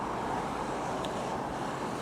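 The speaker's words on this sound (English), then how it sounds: "I apologize for the noise around me. It is busy traffic time." Busy road traffic at rush hour makes a steady, dense roar of passing vehicles, with constant low rumble and wind-like hiss and no clear breaks.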